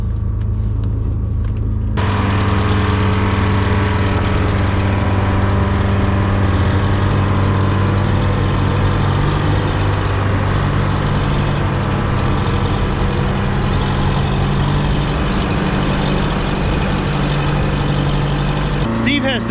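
A tile plow with crumbers trenching and laying drainage pipe, its heavy engine rumbling loud and steady throughout, with a sudden start after a brief quiet opening.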